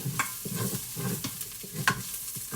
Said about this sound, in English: Stirring until softened.